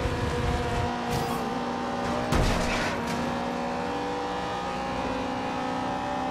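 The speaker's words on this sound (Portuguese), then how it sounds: "Tem carro passando." Cars rush past during a street race in Forza Horizon 2, a steady engine roar filling the scene with a couple of sharp whooshing passes and brief tire noise, no talk.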